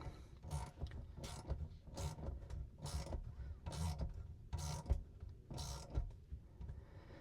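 A hose clamp is tightened on a travel trailer, giving a series of quiet, rhythmic ratcheting clicks from a tool turning the clamp screw, close and low in level with no talking.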